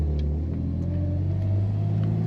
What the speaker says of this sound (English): Smooth running car.